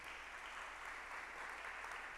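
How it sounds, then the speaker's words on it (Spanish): A church congregation applauding during a sermon, steady distant clapping that stays faint and even throughout the short stretch. "Dale un aplauso fuerte a Jesús."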